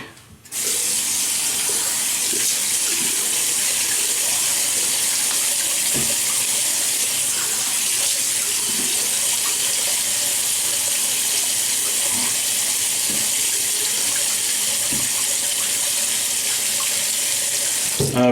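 Tap water runs steadily from a faucet into a sink for wetting the face before a shave, a continuous broadband rush with occasional faint clinks, close and alone.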